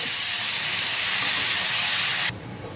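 Paneer hits melted butter in a hot kadai on the stove, giving a loud, steady hiss of frying that abruptly drops to a quieter sizzle.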